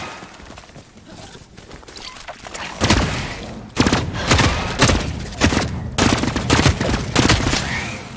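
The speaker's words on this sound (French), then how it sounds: "C'est vrai que ça tire en coup par coup. Enfin, en rafale." Rapid bursts of gunfire crack through a PvP video game match, loud and repeated in clustered volleys with brief gaps, alongside booms and background game noise.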